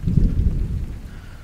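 A thunderstorm over the sea, heard from indoors near a terrace: deep rolling rumble of thunder with a rainy hiss, loud and continuous for a moment.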